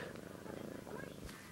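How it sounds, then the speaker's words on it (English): A cat purrs loudly and steadily, a close, continuous rumbling vibration with a fast even pulse filling the short clip. "She's so freaking loud. It won't stop purring."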